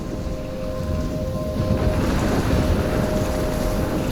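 Storm wind roars with crashing waves near a lighthouse in the Life Is Strange video game, a loud continuous rushing that swells slightly halfway through, with a faint tonal hum beneath and no voices.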